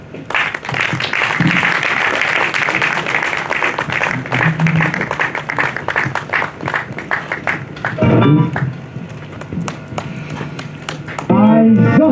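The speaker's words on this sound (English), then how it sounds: "Round of applause for His Excellency." Applause for a state governor at a programme closure, a loud crowd clapping across the clip while a voice speaks over it, ending in a burst of louder sound.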